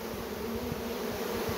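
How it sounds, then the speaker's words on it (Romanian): A honeybee swarm pouring into an empty wooden hive box, a steady close drone of countless wings humming continuously with no voices. "vă arăt ceva inedit, o colonie de albine care a venit la o ladă goală"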